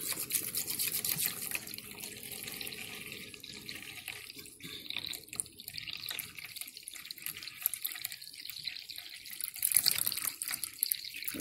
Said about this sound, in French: on va vider de l'eau dans un bol.